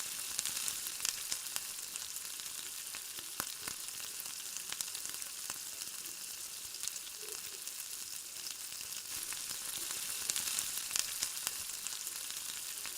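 Cluster beans fry in oil with salt, ginger paste and coriander, a faint, even, continuous sizzle heard close without speech.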